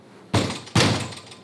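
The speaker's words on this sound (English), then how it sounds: "out here we have our soundproof storm door" A soundproof storm door of laminated glass shutting, two heavy thunks in quick succession, close and fairly loud, each trailing off in a short resonant rattle.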